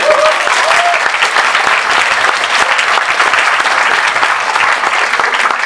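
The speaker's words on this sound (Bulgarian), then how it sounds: "аплодисменти и за него" Sustained audience applause for a voice actor at a Bulgarian film premiere, a loud, dense wash of many hands clapping steadily without pause from start to end.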